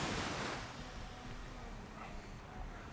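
Calm morning waves on Da Nang Beach in Vietnam: a soft, steady wash of surf with gentle swells, faint and distant, alone with light wind.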